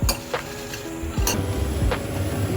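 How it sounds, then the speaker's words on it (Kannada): Twelve Byadgi dry red chillies roast in a spoonful of oil, giving faint sizzling with sharp, scattered crackles and pops close by. "ನೋಡಿ, ಒಣಮೆಣಸಿನ್ಕಾಯಿನೂ ಈ ಥರ ಗರಿ ಶಬ್ದ ಬರಬೇಕು, ಆ ಥರ ಹುರಿಬೇಕು."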